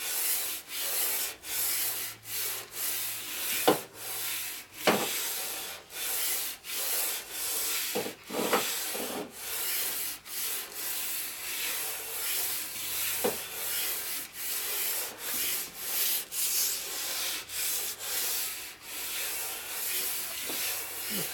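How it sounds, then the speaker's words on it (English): Steady rhythmic rasping strokes of a sanding block scraping back and forth across the metal case of a 1947 Harley-Davidson EL Knucklehead engine, repeated many times at an even pace, close up. "No more sanding block needed."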